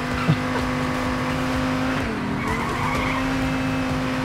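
A car in the video game Payday 2 skids with a long tire squeal over a steady engine drone. The sound is loud and continuous, with a short sharp knock near the start.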